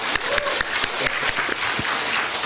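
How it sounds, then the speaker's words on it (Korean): A church congregation at a Korean-language service applauds, a dense steady wash of many hands clapping that fills the room, with faint voices mixed in. "박수 한번 해주세요."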